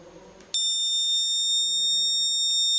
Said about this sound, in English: If the temperature goes beyond 38 degrees Celsius, the red LED will glow and an alarm will beep.